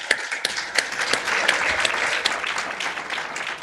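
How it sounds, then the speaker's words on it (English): Audience applause at a county domestic and juvenile court staff appreciation ceremony, a steady wash of many hands clapping that holds for several seconds at moderate volume without talk. "Would you give them a good hand of applause?"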